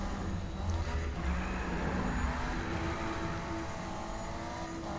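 Continuous engine drone and road rumble from cars racing in the Need for Speed video game, a steady mid-level whine with no clear breaks and no talking.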